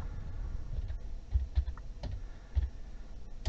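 Someone types a name into an application form on a computer keyboard, producing soft, uneven key clicks and taps close by with a few heavier presses, fairly quiet and without talking.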